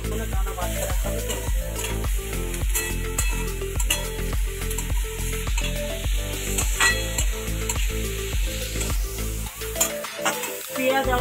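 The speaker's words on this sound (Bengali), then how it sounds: "পেঁয়াজ আমার ভাজা হয়ে গেছে" Onions with salt and green chilli frying in a pan for chow mein, a steady loud sizzle punctuated by rhythmic scraping and clinking strokes of a spatula, close up.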